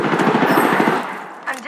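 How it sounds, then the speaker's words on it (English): Rapid automatic gunfire in the shooter game Apex Legends rattles in a fast, loud burst for about a second, then gives way to game sounds and a brief voice. "Getting shot at."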